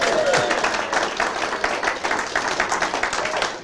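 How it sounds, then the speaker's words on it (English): A live audience at a comedy show claps in a steady round of applause, dense and continuous, close and fairly loud. "give yourselves a round of applause"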